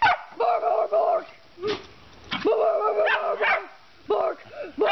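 A dog barks repeatedly in short bursts at another dog, loud and close, with yips and whimper-like tones between groups of barks.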